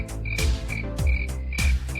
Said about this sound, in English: There's the crickets without Buddy Holly.